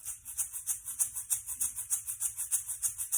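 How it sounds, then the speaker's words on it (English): Steady rhythmic shaking of small grainy shakers, a soft rattling swish repeating quickly and evenly, fairly quiet and close. "Here I've got some egg shakers."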